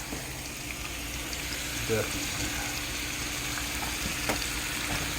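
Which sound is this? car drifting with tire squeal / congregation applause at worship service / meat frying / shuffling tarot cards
meat frying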